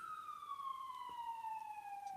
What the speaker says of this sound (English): Ooh, the ambulance.